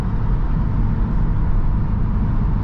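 The 2.0T engine of a 2023 Genesis G70 in sport mode, heard from inside the cabin as a steady, even drone with no voices.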